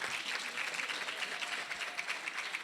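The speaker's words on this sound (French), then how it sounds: "Vous pouvez vous applaudir" Women community relay workers are applauded at a medical facility gathering, a steady, dense round of clapping from a group that holds at an even level throughout, slightly distant.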